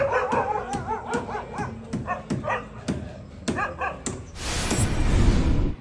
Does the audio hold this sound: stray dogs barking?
yes